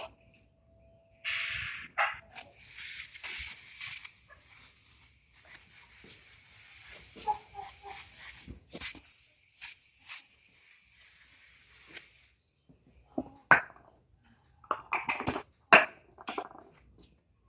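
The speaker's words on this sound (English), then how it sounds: "It's an aerosol." Revive aerosol spray hisses onto a horse's tail in two long, bright bursts, each a few seconds, close to the mic, followed by quieter rustling and handling sounds.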